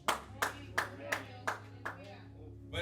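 Church congregation clapping in steady rhythm, about seven evenly spaced claps over a low sustained hum, fading slightly toward the end.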